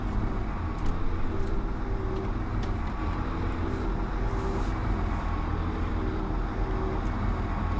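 A large dumper truck in Farming Simulator 2015 drives along a road in South West Norway, its steady low engine drone and rumble continuous and loud throughout, with no other prominent sounds.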